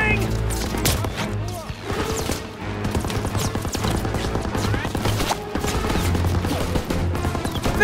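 Sustained covering gunfire at a machine gun nest in Call of Duty WW2, a dense, loud barrage of rifle and machine gun shots with crashes, running continuously, with voices shouting over it.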